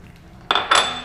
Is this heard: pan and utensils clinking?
yes